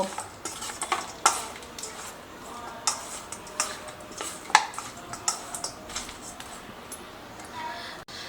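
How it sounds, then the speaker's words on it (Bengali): A spoon mixes butter through chicken tikka in a bowl, giving soft scraping and clicking contacts at an irregular, fairly quick pace over a quiet background, with a few sharper ticks standing out. "দিয়ে চামচ দিয়ে সমস্ত বাটারটাকে চিকেনের মধ্যে মিশিয়ে নেব"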